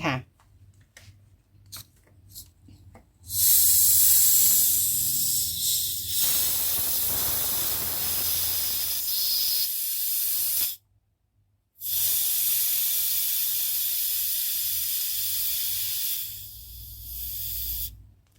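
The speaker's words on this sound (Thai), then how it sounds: "เพื่อนๆเห็นความซ่าไหม" Freshly opened tamarind tepache fizzes with a steady, bright hiss of carbonation close up, running continuously for long stretches and broken by a brief silence before the fizzing resumes.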